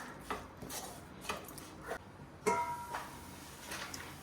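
Onions being mixed and cooked in a pan produce quiet, rhythmic scraping strokes of a spatula, with light knocks and a single clink against the metal, close up and without talk.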